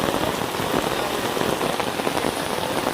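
Heavy rain pours down in a steady, dense roar, loud and close, with countless drops drumming on surfaces and no voices.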